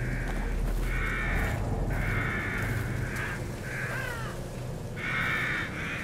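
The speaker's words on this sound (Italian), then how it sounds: "Troppi corvi, raga." Several harsh crow caws in the video game The Evil Within, coming in repeated bursts over a steady low ambient drone, fairly loud and close.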